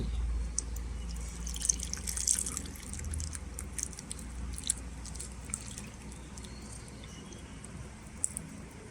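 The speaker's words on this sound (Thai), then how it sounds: "เดี๋ยวเรามากรองอีกรอบนะครับ กรองรอบสองกันนะครับ" Fingerroot (krachai) drink is strained a second time, with liquid dripping and trickling in quick irregular drops over a soft continuous wash, close up and without talk.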